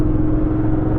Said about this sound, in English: probably the thing that you can hear the most are my aftermarket silencers